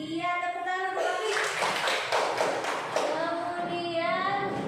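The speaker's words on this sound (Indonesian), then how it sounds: "tepuk tangan untuk" Children in a classroom applaud together, a dense, steady patter of hand claps close by, with a voice speaking over the start and end.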